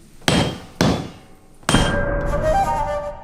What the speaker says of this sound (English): hammering it by hand instead of using machines